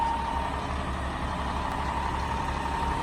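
A Caterpillar 950H wheel loader of Japanese spec idles with its diesel engine running smoothly, giving a steady, even low rumble at close range with no talking.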